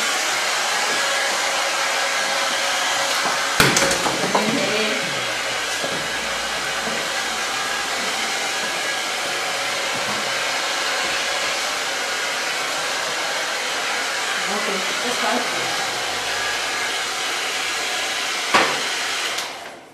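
Hair dryer blowing steadily during a haircut at a barber chair, a loud continuous airy whoosh lasting throughout, with a couple of brief sharp knocks and no talk over it.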